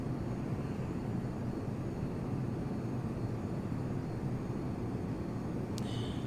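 Steady low drone of an aircraft engine throttled back in the Prepar3D v2 flight simulator during a turn over Rio de Janeiro, a constant broadband hum with no talk.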